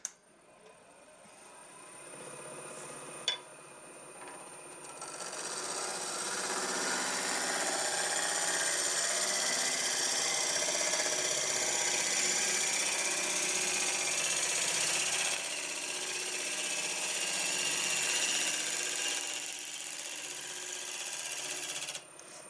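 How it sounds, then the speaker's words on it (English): Lathe-mounted tool shear scraping the outside of a dense natural-edge olive wood bowl, a steady continuous hiss of cutting over the lathe's hum, close and sustained. "I'm literally just going to shear scrape the outside. This is a dense wood."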